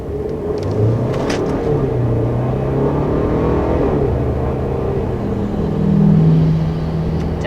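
A 2020 Mercedes GLC 300 in sport mode accelerating, its engine a steady interior rumble that climbs in pitch, with a brief swell near the end and no talking.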